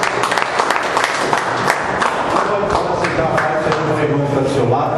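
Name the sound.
congregation applause in church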